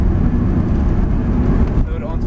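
A Ferrari 360 Spider's engine is brought onto the power, a dense, loud roar with strong low rumble and wind noise, and an instructor speaks over it.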